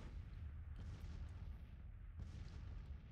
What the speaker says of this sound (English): my artillery barrage continues